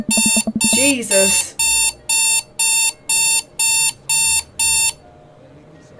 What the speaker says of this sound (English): I jolt awake to the sound of my alarm.